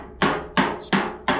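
Hammer driving a chisel to chip Bondo body filler off a Chevelle body panel: four sharp, loud strikes close by, evenly spaced about a third of a second apart, with no talking.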